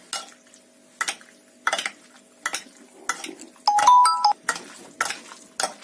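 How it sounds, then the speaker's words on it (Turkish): A spoon clinks and scrapes against a bowl in a steady rhythm, about once per second, while a brief electronic beep sounds midway. "Şimdi kaşık yardımıyla karıştırıyorum."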